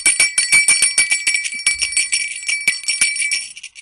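A small bell rung rapidly and repeatedly, bright metallic tinkling strikes in a quick rhythm that grows a little softer and sparser toward the end, heard alone and close.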